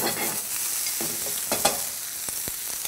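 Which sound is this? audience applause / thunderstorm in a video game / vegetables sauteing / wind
vegetables sauteing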